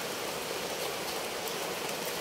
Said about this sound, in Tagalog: Lakas pa naman ang ulan.